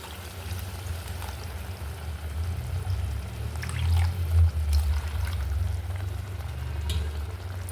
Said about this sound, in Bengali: এর মধ্যেই জল দিয়ে দেবো কিছুটা